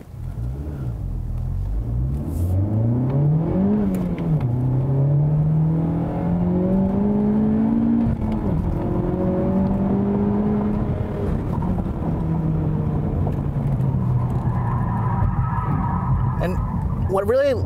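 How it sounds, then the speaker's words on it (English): A 2017 Honda Civic Type R is driven hard through corners, its engine rising and falling in pitch as it revs and accelerates, loud and close from start to finish. "let's try going around some corners one more time in the 2017 Civic Type R"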